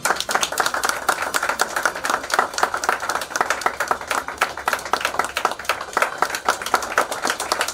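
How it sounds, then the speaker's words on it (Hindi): An audience claps loudly and steadily for about eight seconds, a dense mass of separate hand claps with a slightly uneven rhythm. "जोरदार तालियां होनी चाहिए।"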